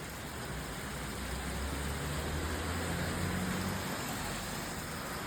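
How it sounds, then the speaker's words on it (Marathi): Steady broadband hiss of monsoon rain pouring down, constant and fairly loud, with a low rumble underneath. "हे बघा पाऊस चालू झालेला आहे."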